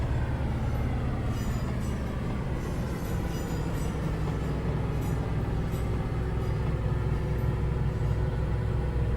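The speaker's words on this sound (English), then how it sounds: "The engine's running for the one down there as well." A Class 156 diesel train engine idling in Train Simulator 2018 on the Great Western Mainline, a steady low rumble with a faint higher whine, constant and continuous throughout.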